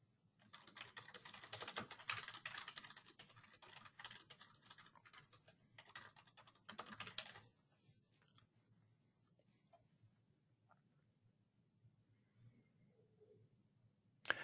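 Quiet typing on a computer keyboard, a quick patter of soft key clicks in bursts for several seconds, then fading to sparse faint taps and near silence, with no talk.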